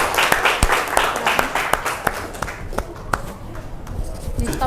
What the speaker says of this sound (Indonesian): Beri tepuk tangan ke kelompok